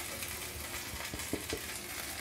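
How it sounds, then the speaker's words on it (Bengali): Ground spice powders, including turmeric, salt and tulsi leaf powder, are stirred and fried on low heat for homemade chyawanprash, giving a steady soft hiss with a few light scraping strokes. "এটাকে 2 মিনিট ভালো করে নেড়েচেড়ে ভেজে নেব,"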